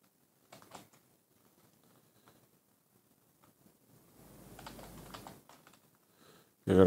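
Code is deleted on a computer keyboard with soft, scattered key taps, including a denser run of quick presses near the end, all faint and close with no talking.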